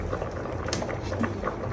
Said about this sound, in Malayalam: ആവശ്യത്തിന് ഉപ്പുകൂടെ ചേർത്ത് കപ്പ വേവിക്കാൻ വെച്ചിട്ടുണ്ട്